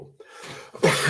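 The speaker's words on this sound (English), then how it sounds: "oh, that cough's no good" A single harsh cough bursts out near the end after a brief throat sound, close and loud, with a quiet pause between them.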